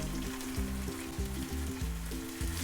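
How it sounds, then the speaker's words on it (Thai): One kilogram of beef tenderloin stir-fried with curry paste in a pan, with a continuous close sizzle and crackle over a low, pulsing background. "ใส่เนื้อลงไปก่อน คั่วกับเครื่องแกงให้หอมนะครับ"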